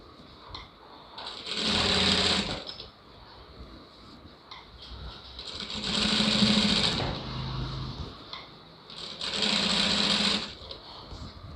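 Sewing machine stitching the lining of a blouse, three separate bursts of steady rapid needle chatter of about two seconds each, with quiet pauses between them and no talking.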